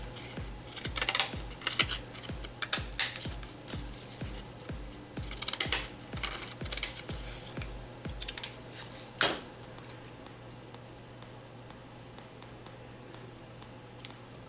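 Scissors snip repeatedly through black paper scraps for junk journal craft work, a steady run of close, crisp cuts in the first half, then slower scattered snips and handling rustle.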